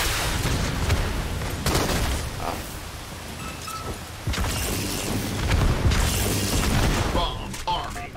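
Bombs dropping and exploding in a video game, heavy booming blasts and rumbling impacts recurring across the stretch amid game noise, with a voice talking over them.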